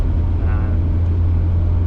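A 1994 Jaguar XJS with a supercharged 4.0-litre straight-six drives along, giving a loud, steady low engine drone with road rumble throughout.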